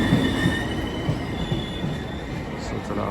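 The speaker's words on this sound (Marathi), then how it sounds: "आपली जनशताब्दी ट्रेन आलेली आहे" Jan Shatabdi express train pulling into Thane station, its wheels squealing with a sustained high metallic whine over the rumble of the railcars, loud and close on the platform with no talking.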